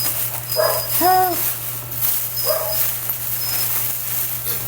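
A dog lets out a few short, high whimpering yelps in two bursts, close by, over a steady low electrical hum in an indoor room.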